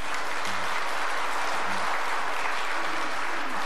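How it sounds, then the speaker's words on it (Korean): Dense applause from a church congregation at a Sunday service, a loud continuous wash of clapping filling the short moment, with faint voices beneath. "박수 한번 치겠습니다."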